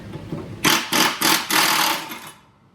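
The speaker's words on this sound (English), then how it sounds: "So you take your impact wrench, make sure you got it on off, put it up there." An impact wrench loosens the blade nut on a riding mower. Four loud, rapid rattling bursts come close together and close to the listener, then fade into quiet.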